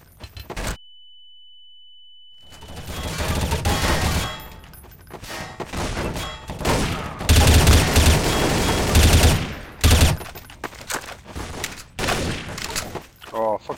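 Rapid gunfire from a Counter-Strike: Source match, with bursts of automatic shots and single rifle cracks coming loud and close, broken by short pauses, alongside occasional game sounds and a brief steady tone near the start.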